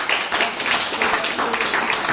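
A church congregation applauding the Lord during a worship service, a dense wash of clapping heard close and continuous for a couple of seconds.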